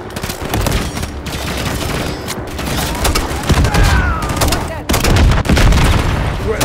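Heavy automatic gunfire in Call of Duty: Modern Warfare III, with dense rattling bursts and booming impacts on a snowy battlefield, firing almost without pause; soldiers shout briefly over the din.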